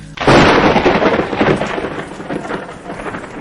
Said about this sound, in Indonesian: langit menjadi gelap dan muncul badai